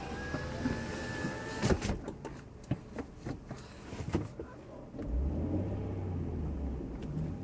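Electric car window motor whines as the glass rises, ends with a thump, followed by scattered clicks and a low engine rumble inside the car.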